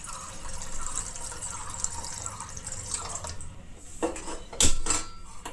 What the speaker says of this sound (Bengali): প্রথমে এখানে নিয়ে নেবো জল, এখানে মাছগুলো দিয়ে দিই।